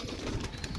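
A large red Jogi fancy pigeon, a Taus breed kept in a loft setup, gives a brief, faint coo over steady background noise.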